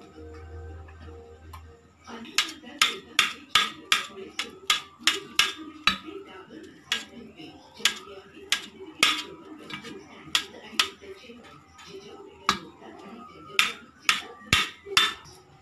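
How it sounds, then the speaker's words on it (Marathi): Boiled potatoes are cut on a plate with a knife, a series of crisp, close taps and clicks. The taps come in quick irregular runs with short pauses between them, over a faint background. "प्रथम बटाटे आपण कापून घेणार आहोत."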